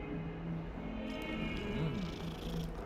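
Cat purring while being petted in the Hogwarts Legacy video game, a soft close rhythmic purr over a low background hum.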